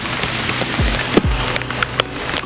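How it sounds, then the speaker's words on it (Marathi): Heavy monsoon rain pours steadily on a roadside in Konkan, a dense, continuous hiss close by, broken by a few sharp knocks and thuds. "प्रचंड पाऊस पडतो आहे"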